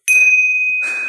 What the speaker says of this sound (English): And that's the last call bell.